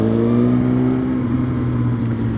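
A motorcycle engine pulls hard in second gear on an evening ride, a steady close-up drone with strong harmonics and no one talking.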